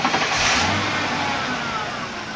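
A Lincoln Town Car engine cranks and fires up, rising to a brief rev before settling into a steady, close idle with no talking over it.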